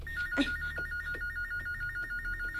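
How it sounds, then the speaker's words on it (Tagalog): A telephone bell rings in a steady repeating trill throughout, fairly close and clear, with a brief knock or thump near the start and a low hum underneath. "nagabagting na po ang telepono"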